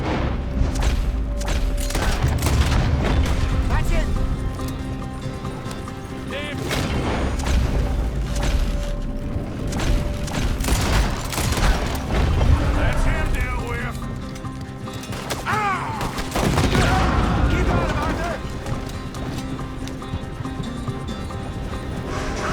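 Gunfire in the video game Red Dead Redemption 2, a horseback fight in which rider and horse are targeted: sharp shots and booms crack repeatedly over hoofbeats, game music and steady talking.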